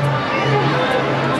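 Crowd chatter at a langar, a dense steady babble of many voices close by with a louder speaking voice over it.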